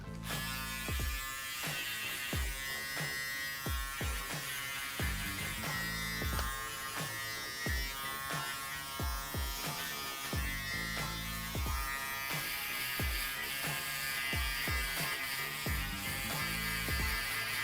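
Electric shaver rubbed directly on the skin during a low fade haircut on coily hair, a steady close-up buzz that runs throughout under a rhythmic backing beat.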